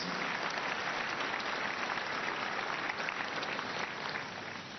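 A church congregation at a Sunday service claps together in steady, dense applause that holds strong and then eases off slightly near the end.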